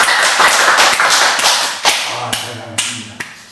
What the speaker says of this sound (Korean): 예, 박수.